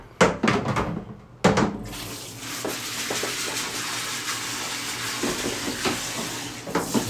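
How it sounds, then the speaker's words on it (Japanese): A shower runs inside a car filled with a bubble bath, its water making a steady broadband hiss that starts after a few sharp knocks and continues unbroken to the end. "シャワー出てみたらどうなる"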